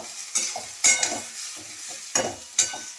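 Onion frying in hot oil in a wok while making chicken rolls, a steady close sizzle broken by several sharp scraping stir strokes of a spatula.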